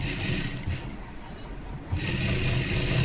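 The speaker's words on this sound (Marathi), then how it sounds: "आणि बघा आता चारी बाजूंनी व्यवस्थित अशी शिलाई करून घेते बरं का" Sewing machine stitching blouse fabric and its lining together, a steady close mechanical whir that briefly eases in the middle before running again.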